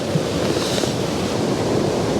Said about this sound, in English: that river, I can hear it bubbling up and making gargling noises